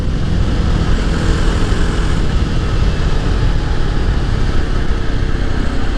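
A Jawa 42 Bobber cruiser motorcycle cruising on city roads, engine hum and wind noise holding a steady, loud, broadband roar for the whole stretch without any talking.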